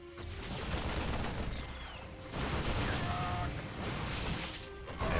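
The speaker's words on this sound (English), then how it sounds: "There we go, gateway explosion." A Protoss gateway building explodes in a StarCraft match, with rough crashing bursts and rumbling blasts that swell, dip and surge again amid ongoing battle noise.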